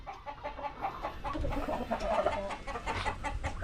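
Chicks and hens clucking busily as they feed, with a steady close-up chorus of cheeps and clucks through the whole stretch and no talk.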